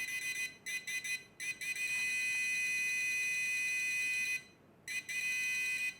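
A steady high-pitched electronic beeping alert from a Quest XPointer handheld metal detector, sounding in short pulses then long sustained stretches, loud and close, with brief gaps of silence.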